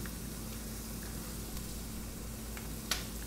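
Chopped vegetables sweating in a small pan for homemade mac and cheese, giving a steady, even sizzle throughout with a faint click near the end and no talking.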